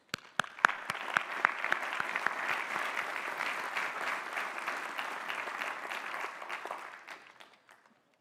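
A commencement and doctoral hooding audience applauds the new Doctors of Philosophy with sustained, even clapping and a few sharp individual claps, building quickly and fading out near the end.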